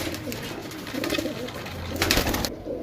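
Pigeon cooing while being handled during a sale in Sarialamgir, Jhelum, Pakistan; soft, low throaty coos repeat under background noise and rustling, fairly close.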